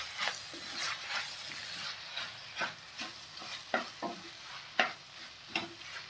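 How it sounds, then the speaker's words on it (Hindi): A spoon scrapes and stirs chopped coriander into sizzling beans and carrots in a pan, with irregular clinks and scrapes over a steady frying hiss. "50 ग्राम के आसपास बारीक कटा हुआ धनिया डाल देते हैं और मिला लेते हैं"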